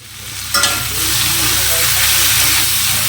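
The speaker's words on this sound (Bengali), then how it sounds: "ব্রোকলিটা ভাজা করছে" Loud, steady sizzling of broccoli frying in a pan, close up, with a sharp clatter near the start as food is stirred.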